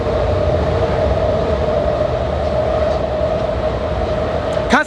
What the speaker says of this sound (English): a train is coming again